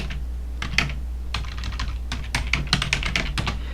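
Keys clatter in quick bursts on a computer keyboard as a search term is typed into Korean accounting software, a steady run of close, crisp clicks over a low background hum.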